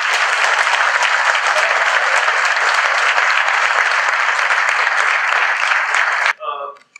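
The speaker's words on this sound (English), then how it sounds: "let's give a final round of big applause" Meetup audience gives a final round of loud applause, dense sustained clapping filling the room for over six seconds before stopping abruptly, followed by a short burst of speech.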